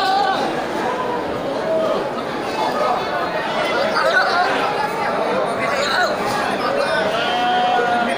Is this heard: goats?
yes